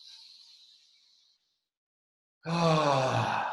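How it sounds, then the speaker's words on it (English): A deep inhale through the nose during breathwork: a soft, airy hiss lasting about a second and a half, then a brief pause before a loud, voiced, sighing exhale. "So take an inhale in through the nose."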